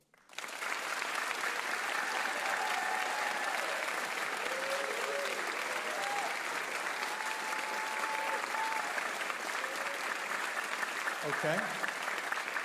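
An audience claps on cue at a live old-time radio hour taping, the sustained applause starting abruptly and filling the room evenly, with a few whistles and a brief spoken word near the end.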